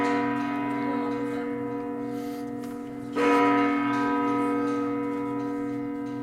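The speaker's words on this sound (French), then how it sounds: "Une autre cloche qui rappelle que c'est bien 3 heures." Strasbourg Cathedral's bell rings out for three o'clock, a rich, sustained resonant tone with a fresh strike midway that swells the humming overtones, heard loud and alone.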